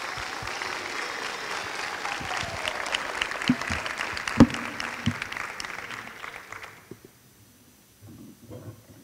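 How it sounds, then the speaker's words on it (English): Audience applause at a university honors day chapel service: a crowd claps steadily with a few sharper individual claps, then the clapping fades out, leaving quiet room noise and faint shuffling at the end. "Let's give her a round of applause."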